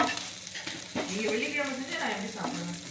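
Pepper chicken sizzles steadily as it is stirred and tossed in a frying pan, with scraping strokes breaking through the continuous close, moderately loud frying hiss.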